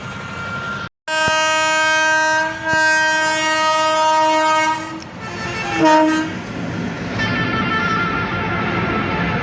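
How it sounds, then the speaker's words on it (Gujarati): A long double-engine freight train approaches with long, loud horn blasts, then rumbles past up close as the horn fades into steady rolling noise. "ડબલ એન્જિન વાળી ટ્રેન છે ભાઈ,"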